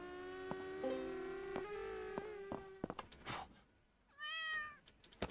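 A cat meows in a computer repair shop simulation game, a tonal cry near the end following a long sustained electronic hum with clicks, fairly quiet and heard alone without talk.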